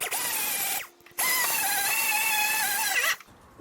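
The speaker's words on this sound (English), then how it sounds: "now we're going to use my die grinder with this flappy wheel" A die grinder fitted with a flap wheel whines loudly as it strips loose rust from a Porsche 996 Carrera, running in two close bursts of high, steady grinding separated by a brief pause.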